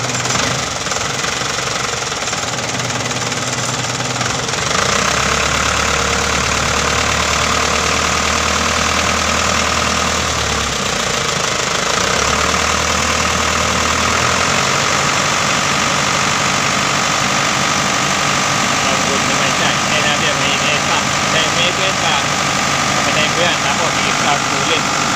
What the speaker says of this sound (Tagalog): ito ang makina